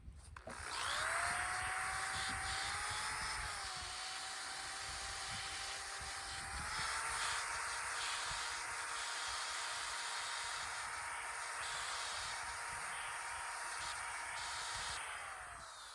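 A power tool fitted with a wire brush scrubs rust and old paint off a metal chair, giving a steady high-pitched whine with harsh scraping noise that shifts in pitch as the load changes, close and continuous.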